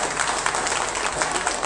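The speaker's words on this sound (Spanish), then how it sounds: "miren este aplauso, ¿cómo se da?" Dense, steady applause from a large crowd at a carnival organizers' gathering ahead of the 2012 carnival, continuous clapping filling the whole moment at moderate loudness.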